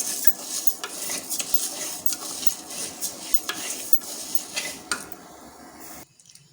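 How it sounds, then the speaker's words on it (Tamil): Lentils being stirred and dry-roasted in a pan, with a steady run of scraping and clinking from the spoon against the metal and a faint crackle beneath, continuous for about six seconds before stopping abruptly. "அந்த பருப்பை வறுத்து எடுத்துக்கிறோம்"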